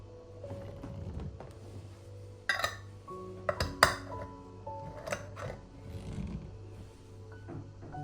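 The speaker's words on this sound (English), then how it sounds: "Now it's time to seal them with fresh, clean lids." Glass jars of blueberries are sealed with fresh metal lids, giving sparse close clinks and sharp metallic taps, with a cluster of brighter knocks in the middle.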